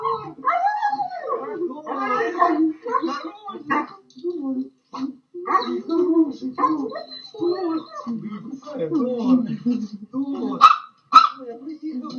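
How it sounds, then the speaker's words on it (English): A Ukrainian soldier's dog reunites with him after months apart, giving excited barks, yelps and whimpers throughout while people talk over it. "a Ukrainian defender reuniting with his dog after being gone for several months"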